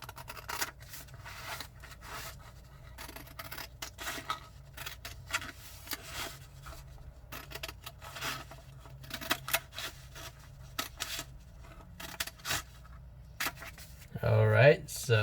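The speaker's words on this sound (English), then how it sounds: "I'll hold the paper up and just cut it through the crease that we just made." Scissors cut through folded paper along a crease in a series of close, crisp snips and rustles, uneven in rhythm, ending with a louder crinkle of handled paper; a voice speaks quietly at times.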